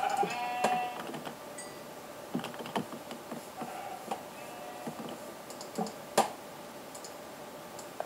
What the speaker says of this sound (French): J'entends, mais je ne vois pas de vaches. Enfin, de moutons.